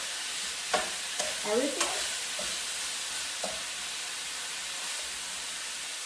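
Pork and cauliflower stir fry hisses steadily in a hot pan as a few quick stirring scrapes clatter through the sizzle, close up, with a brief spoken word.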